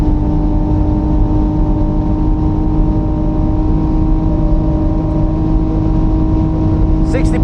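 A Hyundai Ioniq 6 N drives at the Nürburgring using simulated manual shifts through the paddles, giving a loud, steady synthetic engine drone with constant tones and road noise throughout.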